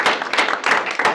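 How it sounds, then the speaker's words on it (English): A round of applause for the play of the week at a stakeholder meeting, loud, close and steady, with bursts of clapping from a small group filling the whole moment. "let's give her a round of applause"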